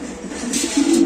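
A pair of Andalusian pigeons coos up close, a male giving short, low, throaty coos that rise slightly at the end, with no voices.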